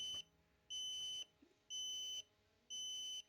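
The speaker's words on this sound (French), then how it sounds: "t'as plus que ces bips là" Three evenly spaced bursts of rapid, high electronic beeping, each about half a second long, come from a car's horn and indicator wiring after the horn was disconnected. Quiet gaps separate the bursts, and no one speaks.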